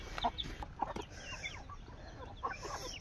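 A hen and her chicks in a coop make soft clucks and thin high peeps at a moderate distance, scattered irregularly over steady outdoor background noise.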